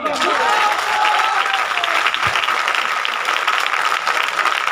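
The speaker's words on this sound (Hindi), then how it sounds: "तो एक बार खूब जोर से ताली बजा लो अपने लिए।" A seated crowd at a business meeting claps loudly for itself, a dense burst of applause at full strength from the start, holding steady with faint voices mixed in.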